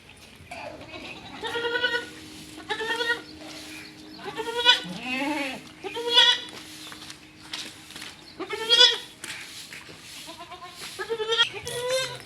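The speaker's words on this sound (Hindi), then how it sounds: "व्यूअर ये देखें बकरियाँ, क्योंकि बकरियों के लिए बहुत ही मुश्किल है।" Goats bleat repeatedly over about twelve seconds in a rain-soaked, waterlogged yard, several loud wavering cries near and far with pauses between, a low steady hum underneath.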